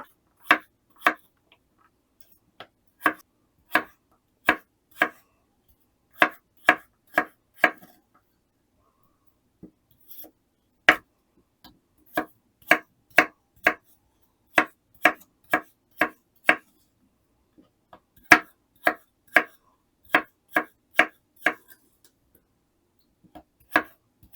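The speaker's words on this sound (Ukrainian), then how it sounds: "Картоплю нарізаю кубиками" A knife chopping potatoes into cubes on a cutting board in a home kitchen, crisp isolated taps in quick bursts of five to eight strokes separated by short pauses, close and clear with no talk.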